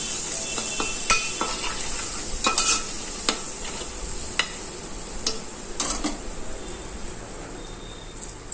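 Chili powder is mixed into fish curry masala in a pan. A soft, steady frying hiss runs throughout, broken by scattered sharp spoon clicks and scrapes at close range.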